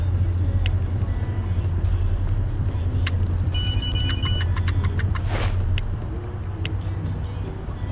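Steady low car engine hum from the video game Big Ambitions, a constant rumble with a few faint electronic beeps and tones layered on top midway.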